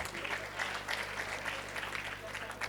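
An audience claps at a comedy show, giving a steady, close patter of many hands, with a voice speaking over it.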